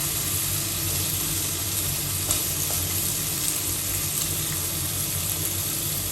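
Matsusaka wagyu beef sizzles steadily in a hot pan, rendering fat, a dense continuous crackle and hiss close by, with no talking throughout.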